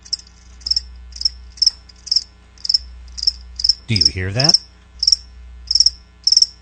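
Steady crickets chirp in regular rhythmic bursts, fairly close and clear, as one voice speaks briefly in the middle.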